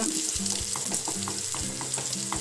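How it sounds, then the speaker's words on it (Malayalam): Small onions for brinjal thoran fry in a pan, a constant close sizzle with a spoon stirring in a regular rhythm. "ചെറിയുള്ളി ചെറുതായിട്ട് മൂത്ത് വന്നിട്ടുണ്ട്"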